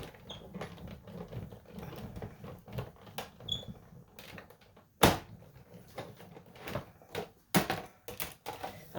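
Cut and emboss machine running an embossing folder through, a quiet sequence of mechanical clicks, creaks and sharp clunks at irregular intervals, with no talking.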